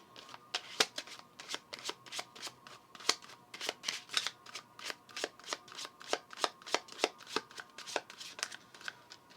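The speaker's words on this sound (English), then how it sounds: "We need some sealer cards. Let's get that real quick. I get 3 cards real quick." A deck of cards is shuffled and drawn for a card reading, giving a steady run of crisp, papery flicks and riffles at close range with no one speaking.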